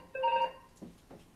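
A telephone rings indoors with a short electronic tonal burst, followed by brief faint rustling sounds, and no talk is heard.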